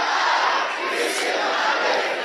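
A church congregation shouts a prayer loudly and in unison, a dense, sustained roar of many voices that stays strong and steady throughout.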